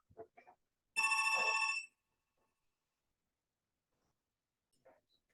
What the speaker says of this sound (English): I gotta answer that phone